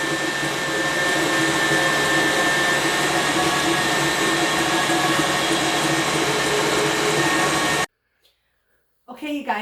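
An electric grain mill grinds einkorn wheat into flour on its finest setting, a loud, steady whirring roar that runs continuously, then cuts off abruptly into silence before faint sounds follow.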